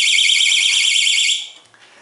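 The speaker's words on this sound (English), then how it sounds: "The alarm sounding" A battery-powered mouse trap alarm sounds, a loud, piercing electronic warble held steady at close range for over a second before cutting off into near silence.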